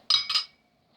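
A couple of quick, bright clinks of a metal scoop against a dish of homemade vegan jello, close by, then quiet.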